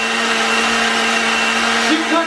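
A blender whirs with a loud, steady motorized drone as it mixes thick protein pancake batter, pitch shifting slightly near the end.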